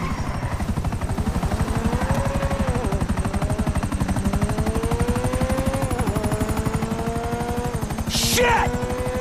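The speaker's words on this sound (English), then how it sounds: "Another chopper!" A helicopter flies overhead in the GTA 5 video game, its rotor chopping in a loud, steady rapid pulse with a whining engine tone that slowly rises and falls, and a brief burst of noise near the end.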